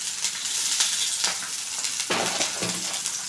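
Onions, green chilies and curry leaves fry in a pan with a steady crackling sizzle, while occasional scraping stirs rise over it, close and fairly loud.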